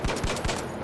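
Weapon fire in the video game The Finals, a heavy gun: a short burst of three or so rapid, loud shots with hard transients, close and alone without talk.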